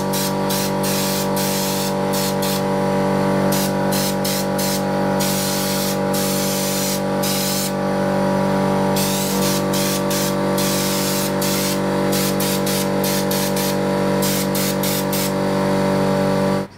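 Upol Raptor bed liner sprayed onto a Jeep XJ tire carrier bumper, a loud close spray gun hiss in repeated bursts of varying length over a steady compressor drone.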